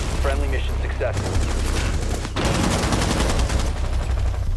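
Rapid automatic gunfire in Rainbow Six Siege rattles in dense bursts, loud and close, pausing briefly before another sustained volley, with a voice briefly heard.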